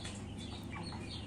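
Broiler chicks of the Arbor Acres breed, about fifty days old, cluck softly in a poultry shed; a brief, faint burst of murmuring fowl calls.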